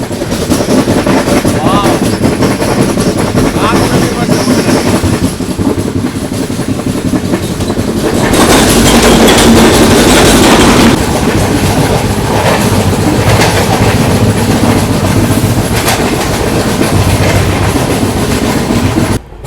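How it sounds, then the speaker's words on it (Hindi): The Ernakulam–Mumbai Duronto Express running through Karbude tunnel on the Konkan Railway, heard from inside a first-class AC coach: a loud, continuous roar with clattering wheels that swells midway, under a faint voice. "फिलहाल तो गाड़ी यहाँ पे टनल में चल रही है, करबुडे टनल।"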